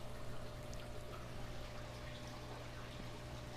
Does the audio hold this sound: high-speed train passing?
no